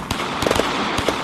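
Gunshots in a loud video game, a quick burst of sharp cracking shots, close and loud, in just over a second.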